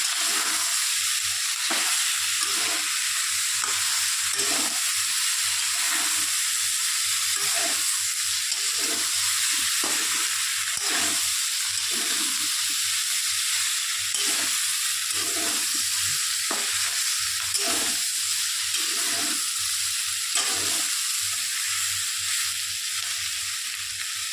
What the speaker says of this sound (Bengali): এবার আমি এই মশলাটাকে ভালো করে মিশিয়ে নেব।